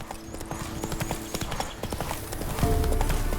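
Horse hooves clopping on the ground in the video game The Witcher 3, a steady run of hoofbeats with a short neigh near the end and game sounds in the background.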